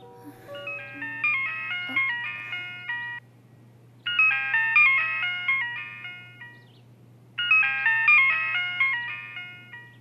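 A melodic phone ringtone plays three times with pauses between, clear and fairly close over a low steady hum, nobody picking up.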